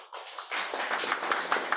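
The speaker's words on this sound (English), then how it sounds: "A lot of clapping and applause for this morning." A church congregation clapping at a Sunday worship service, brief scattered claps that swell into a short burst of applause in a reverberant room.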